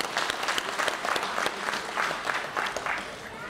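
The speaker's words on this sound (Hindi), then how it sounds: "जाफरान स्वीट और मोती साहब के लिए एक बार तालियां बजा दें आप लोग।" An audience at a Bihar and Jharkhand Diwas event claps together, a dense, sustained burst of applause with faint crowd murmur underneath, fairly close and filling the whole stretch.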